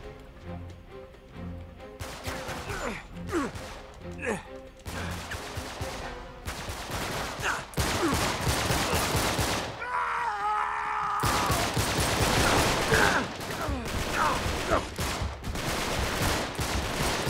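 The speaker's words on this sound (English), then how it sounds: "now there's people shooting at me" Heavy gunfire in Uncharted 3: Drake's Deception, long stretches of rapid automatic bursts and single shots close and loud, broken by brief lulls and character grunts.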